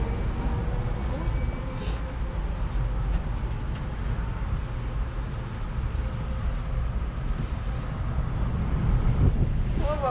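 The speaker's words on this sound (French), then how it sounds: "Oh, il y a du vent." Steady wind rushes and buffets across the microphone outdoors near the Budapest Eye Ferris wheel in Budapest, a constant low roar with occasional faint background sounds.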